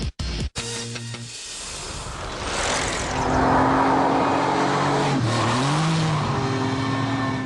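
A TVR Tuscan's powerful engine revs and roars up close, rising in pitch as it accelerates, with a short squeal of tires.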